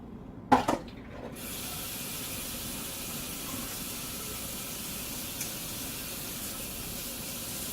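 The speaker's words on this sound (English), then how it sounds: "I'm going to give this a rinse over" Water from a kitchen tap runs in a steady, even stream over food being rinsed. A brief clunk and splash come first, then the flow holds constant nearby.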